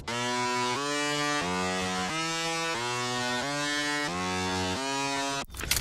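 Saturated, buzzy synth bass in its upper register from a hip-hop production, playing a steady run of sustained, harmonically rich notes that step in pitch roughly every half-second, loud and alone before cutting off abruptly near the end.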